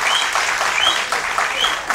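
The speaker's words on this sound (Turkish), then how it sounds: "Alkışlayalım Efe'ye de." Studio audience applause during a live Turkish TV program, continuous dense clapping at moderate loudness with a few whistles, no talking over it.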